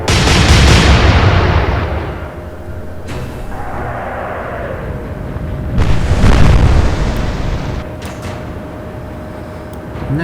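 Naval guns fire in the warship game Atlantic Fleet, Royal Navy against Kriegsmarine: a heavy boom opens, further deep blasts and rumbling follow around the middle and later, and a whistling shell trails between them, all loud with no voices.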